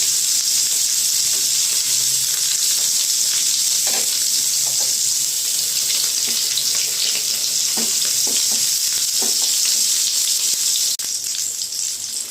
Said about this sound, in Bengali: পনিরগুলো হালকা লাল করে ভেজে নিতে হবে দুপাশ